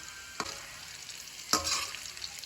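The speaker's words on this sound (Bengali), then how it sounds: "এবার গ্যাসের ফ্লেমটা মিডিয়াম রেখে উচ্ছেগুলো একদম লাল লাল করে ভেজে নিতে হবে" Bitter gourd pieces frying in hot oil over a medium gas flame, a soft, quiet sizzle broken by two brief bursts of stirring or spattering.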